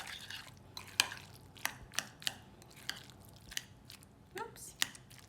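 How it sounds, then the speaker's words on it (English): Guacamole seasoned with black pepper and salt gets mixed in a bowl, giving a run of soft, wet squishes and sharp utensil taps against the bowl, close and fairly quiet. "Give it one big mix."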